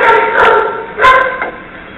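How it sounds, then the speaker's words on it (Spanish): A pastor de campo dog barks indoors, two or three sharp, close barks spaced about half a second apart, with little else around them. "¿Quién está ladrando ahí? ¿Quién está ladrando?"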